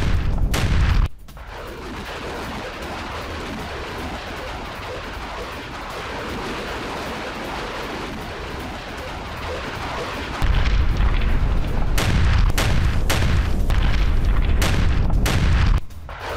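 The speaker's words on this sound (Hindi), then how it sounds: "प्लेट ऑन ग्रैंड MLRS से यूक्रेनी इलाकों में फायरिंग" Grad MLRS rocket artillery firing on Ukrainian areas: a loud, continuous rumbling roar that swells into heavier booming with several sharp cracks toward the end.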